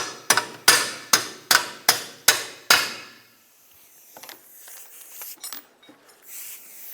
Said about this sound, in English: Take your hammer, drive the bolt out.